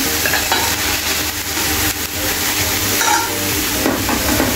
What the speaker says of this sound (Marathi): ते व्यवस्थित असं फ्राय करून घेणार आहे आपण